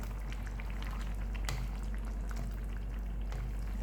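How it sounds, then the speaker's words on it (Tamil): Prawn kurma with coconut milk bubbles at a boil in an open pot, a soft, continuous, close simmer with scattered small pops and no talking. "கோகோனட் பால் கலந்து ரெண்டே நிமிஷம் தான் ஒரு கொதி வந்தால் போதும்"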